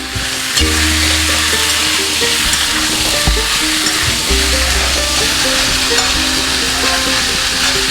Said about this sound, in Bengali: জিরে বাটা কিন্তু দিয়ে তোমার ভালো করে ভাজতে হবে